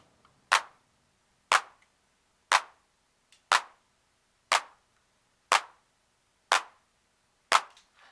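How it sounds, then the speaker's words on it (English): Clap voice from a Syntakt digital drum machine, played solo as eight sharp, dry hits spaced evenly about one second apart, each a crisp burst with a short decay and silence between. "So if you just listen to the Syntact clap,"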